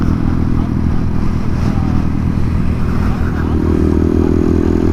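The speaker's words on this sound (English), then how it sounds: "That was a really weird moped thing." On a city street, a modified moped scooter covered in aftermarket metal parts revs its engine with a loud, close, rough drone, and a voice talks over it.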